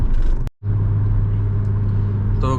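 A stock Hyundai Verna Turbo car engine revs on the throttle, a loud steady low drone that cuts out briefly near the start, then resumes and holds, ending with a short higher mechanical sound.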